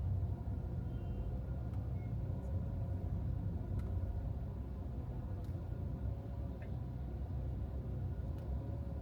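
Steady low traffic rumble heard from inside a car driving through the Nasiriyah district of Riyadh on a busy Thursday night, a continuous road drone with faint ticks and no talk.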